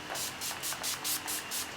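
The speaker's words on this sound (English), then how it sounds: "I'm going to set everything in place with Skindinavia Makeup Setting Spray." Seven quick, evenly spaced spritzes of Skindinavia makeup setting spray, short hissy bursts in a steady rhythm, close and fairly soft.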